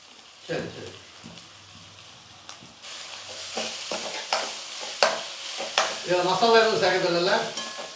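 Potato masala being sautéed and stirred in a pan for a rava masala dosa, with soft sizzling and scraping strokes throughout, joined by a voice speaking in the latter half.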